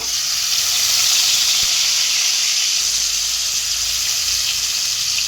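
Ground onion and green chili paste fries in hot oil, giving a loud, continuous sizzle and hiss that holds steady throughout with no talking.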